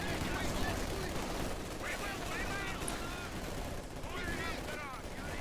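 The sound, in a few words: gunshots in real-time strategy video game match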